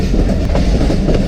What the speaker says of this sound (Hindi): ये बरूदी रेलवे स्टेशन है कोई